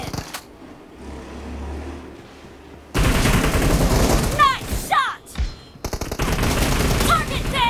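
Loud bursts of automatic gunfire from a PUBG Mobile match, rapid rattling volleys near and sustained, with a quiet lull before the shooting erupts and brief gaps between bursts.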